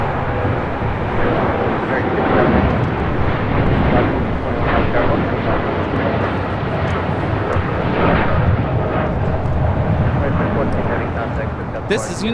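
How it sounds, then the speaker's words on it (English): A United Airlines Boeing 787-10 Dreamliner takes off from LAX, its jet engines a loud, sustained broadband roar that holds steady throughout, with people talking beneath it. "taking off to Newark on a 787-10 Dreamliner"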